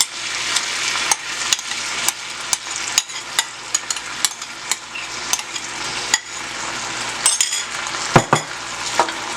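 Pork chops sizzle in a hot pan on a high stove as sweet and sour sauce is stirred in, with a steady frying hiss and regular clinks and taps of a utensil against the pan, close and alone.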